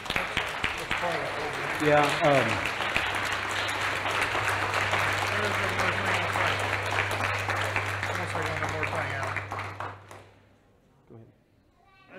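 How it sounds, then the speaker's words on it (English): A church congregation applauds together in a sustained, dense wash of clapping mixed with cheers and voices, lasting about ten seconds before fading into quieter room sound. "Let's give God a hand clap of praise for His good"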